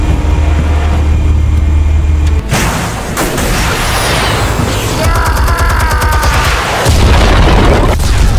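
A loud explosion in the Batman Telltale video game bursts out after a brief low rumble, followed by a sustained roaring, crackling blast with scattered debris and rumble continuing to the end.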